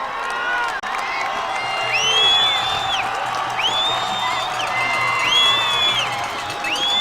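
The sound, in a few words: stadium crowd cheering at football championship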